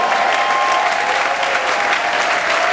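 A church congregation breaks into steady, dense applause, the clapping close and loud and filling the space without pause.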